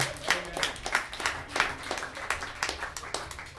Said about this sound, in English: would please a nice round of applause for all the people who come on stage with me tonight